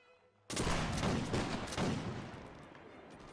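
A massed musket volley fires in a Napoleonic Wars battle game, Prussian against Royal army: after a short quiet lead-in, a dense crackling wall of near-simultaneous shots bursts out, loud and close, then slowly tapers into a ragged rolling echo.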